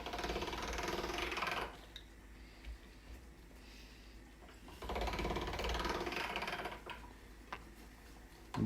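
A pasta roller works coffee pasta dough on its widest setting, giving two bursts of mechanical whirring and clicking with a quieter stretch between them, close by.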